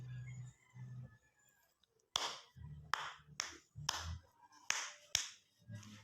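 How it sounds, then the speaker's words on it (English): Hands clap out a rhythm pattern for a music lesson on rhythm: six sharp, close claps in an uneven pattern, some spaced and some quick pairs, alone with faint low hum in between. "let's try this example using a clapping pattern"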